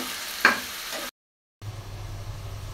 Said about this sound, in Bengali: এক পাশে মাছ ভাজা হচ্ছে, আরেক পাশে লাল শাক বসিয়ে দিয়েছি